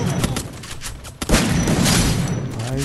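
Shotgun fire in the video game Free Fire, loud booming blasts in quick succession with a sharp crack near the middle, dense and close, without speech.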